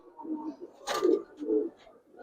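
A Giribaz pigeon gives a few soft, low coos in a short, close sequence, with a brief rustle partway through.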